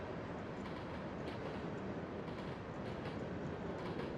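A train runs on rails in the SimRail simulator, heard as a steady, fairly quiet rumbling roll with faint rhythmic rail clatter and no voices.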